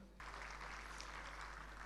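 An audience applauds at a community service event in Gujarat, steady dense clapping that begins abruptly after a brief low hum and continues evenly, heard from within the hall at moderate distance.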